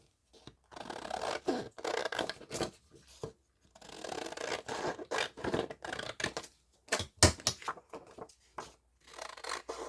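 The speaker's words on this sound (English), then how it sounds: "Let me just quickly cut out this one too." Scissors snipping out a paper craft piece at close range, a run of short crisp cuts and rustling paper arriving in uneven bursts with brief pauses between them.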